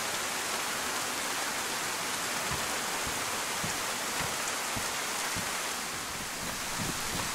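Steady rain in the DayZ video game on the Chiemsee map, a dense even hiss with scattered soft drop impacts, continuous and moderately loud with no talk.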